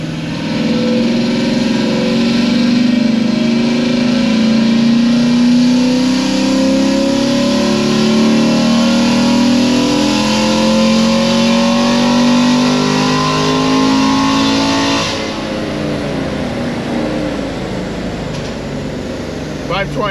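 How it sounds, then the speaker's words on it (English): A car with an LT1 engine held at high revs, a loud sustained rising engine note that climbs steadily for about fifteen seconds before dropping off and fading to idle. "it revved out a little further, but then it closed"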